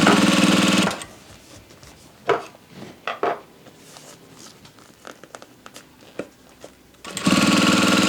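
A Vevor industrial sewing machine drives over a seam while sewing a zippered clutch. A loud, rapid run at the start cuts off, light clattering and fabric handling follow, and the machine whirs up loudly again at the end.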